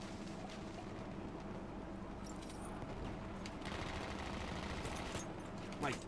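Heavy-recoil gunfire in Battlefield 1 rattles along as a dense, continuous wash of shots, with battlefield noise and a voice underneath; a sharper burst near the end.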